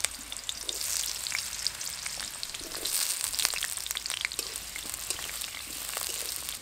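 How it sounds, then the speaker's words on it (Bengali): Small potato pieces fry in hot oil in a wok, giving a continuous crackling sizzle with scattered sharp pops throughout. "আলুগুলো লালচে করে ভেজে নিয়েছি"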